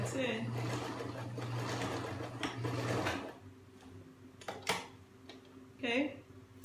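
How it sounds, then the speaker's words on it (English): A sewing machine stitches the two ends of elastic together for an elastic-waist skirt, running in a steady whirring burst for about three seconds before stopping, followed by a few quiet clicks and handling noises. "I'm gonna sew it together, the two edges of the two tips of the elastic"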